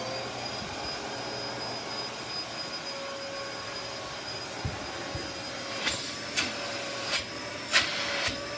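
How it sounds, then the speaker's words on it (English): A Royal Dirt Devil canister vacuum cleaner runs with a fairly quiet, steady whooshing hum, and a few light knocks and clicks sound near the end. "But this vacuum cleaner is not that loud."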